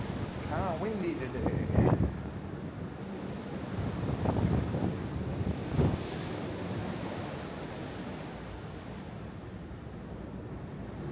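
Strong wind gusts buffet the microphone on the open deck of the Holland America cruise ship Eurodam, with a constant low rumble and rushing air. Someone talks faintly under the noise early on.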